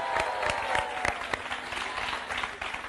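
An audience applauds a singer on a Portuguese talk show, a moderately loud burst of clapping with sharp individual claps standing out from a dense, steady patter that fades slightly toward the end.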